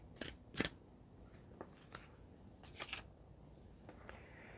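A deck of oracle cards being shuffled and a card drawn: soft, sparse snaps and flicks of card stock, quiet and close, with no one talking.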